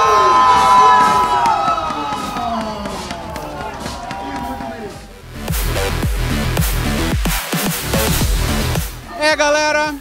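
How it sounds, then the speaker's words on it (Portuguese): An esports arena crowd at the CBLOL 2023 first-split final cheers loudly and steadily for LOUD against paiN, with a commentator talking over the noise. "Olha o show da torcida."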